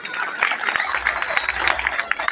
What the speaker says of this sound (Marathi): आपण सर्वांनी येथे शिक्षकांसाठी एका जोरदार टाळ्या होऊ द्यायच्या